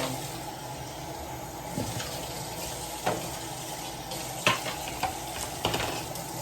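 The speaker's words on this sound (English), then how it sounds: "with my pump, let me rinse it out so it's not just like milk all over." A breast pump rinsed under a running tap, steady close water hiss with a few clattering knocks of plastic parts, no talking.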